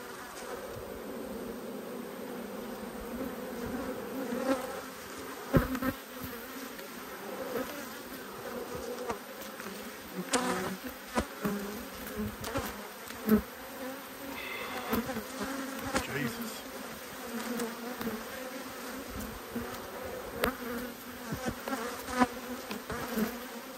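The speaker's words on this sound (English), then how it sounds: "I don't think I've squashed that many bees." Honeybees buzz around an open hive during an inspection, a steady close-up drone of many insects with occasional louder passes and light handling clicks, with no talk.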